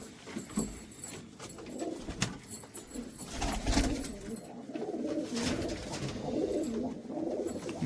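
Flying pigeons kept by a breeder in America coo in soft, repeated throaty bursts close by, with faint rustling and shuffling around them and no talk.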